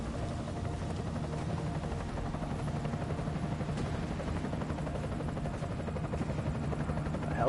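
An enemy helicopter in the video game Deus Ex gives off a steady, loud rotor drone with a fast chopping pulse, continuous and close, with no voices over it.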